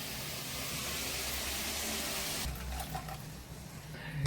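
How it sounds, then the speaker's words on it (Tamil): Chana dal soaking water is poured into a cooking pan as a steady, soft rushing splash, which stops abruptly partway through and leaves quiet kitchen sounds. "இந்த தண்ணி இப்போ இதில் ஊற்றிக்கலாம்."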